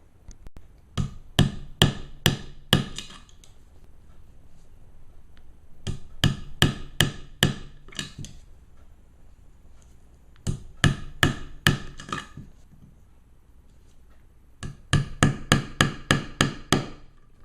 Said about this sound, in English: you're just going to hammer in right along the perimeter of the letters